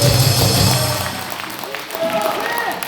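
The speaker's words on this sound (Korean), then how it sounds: "박수하겠습니다." Applause rises at a right-wing political party and civic group gathering, loud at first with overlapping crowd noise, then thinning into scattered clapping as talk resumes.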